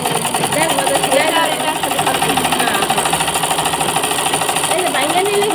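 A sewing machine stitching trousers runs as a continuous loud, fast mechanical rattle throughout, with people talking over it.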